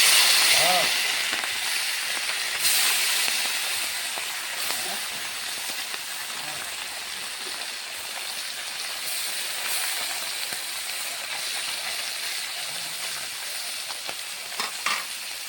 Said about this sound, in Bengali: মেখে রাখা মাছগুলো এখন ভেজে নেব।